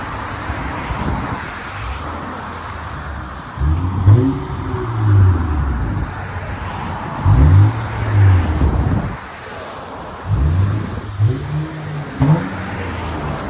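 Deep, raspy revs from a 2007 Honda Accord 3.0L V6 with the muffler deleted repeat several times from a steady idle, each burst rising and falling with a rough, throaty growl, close and loud.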